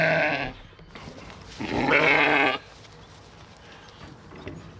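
Sheep and lambs bleat in a farm pen, with one loud, sustained bleat standing out mid-clip over quieter background calls and shuffling.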